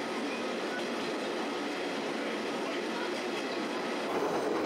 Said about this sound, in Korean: 기차 소리가 마치 심장의 맥박처럼 뛰고